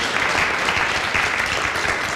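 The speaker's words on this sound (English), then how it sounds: "Let's give Chef a round of applause." Audience applause for a chef at a restaurant dinner event attended by about 100 people, a steady dense clapping wash that fills the whole short stretch at fairly close range.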